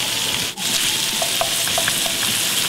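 Asparagus hits a hot pan already holding warming salmon, giving a steady, close sizzle with a brief dip and scattered light pops and clinks of stirring throughout.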